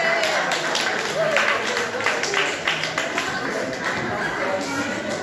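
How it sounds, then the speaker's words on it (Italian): An outdoor audience at an Italian event gives a round of applause, scattered clapping running throughout with a voice talking over it. "Oh là, un bel applauso."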